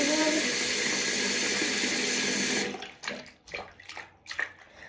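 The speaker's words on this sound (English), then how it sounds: "I'm gonna put a little bit of water in there." Soapy water runs steadily into a container, a loud continuous hissing stream for a few seconds that then stops abruptly, followed by softer sloshing and handling noises.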